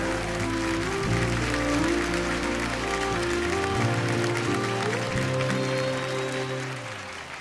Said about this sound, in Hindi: जोरदार तालियां आ जाए।